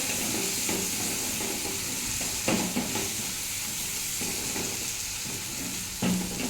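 Ground chili and ginger paste with spices frying in oil, a dense continuous sizzle close up, punctuated by a couple of soft stirring knocks.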